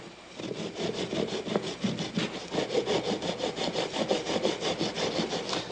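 A hand saw cuts wood along the grain in slow, even back-and-forth strokes, each pass a rhythmic rasping scrape, close and clear with no talking.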